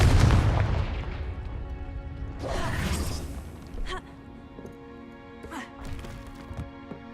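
Confringo fire spell blast in the Hogwarts Legacy video game: a loud booming explosion at the start fading into a roaring whoosh, followed by several sharper impact cracks and thuds over game music.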